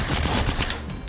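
Rapid SMG fire in Fortnite rattles as a dense, continuous burst for about a second, loud and close with no talk.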